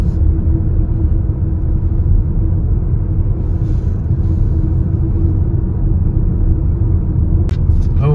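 A car driving slowly through the streets of Wiggensbach, its steady low rumble heard from inside the cabin, continuous and even throughout with no voices.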